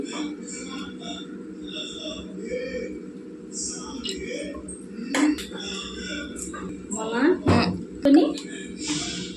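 A pot is set on a stove to make pulav, with a few metallic clinks and knocks of cookware close by, under a person talking for most of the clip.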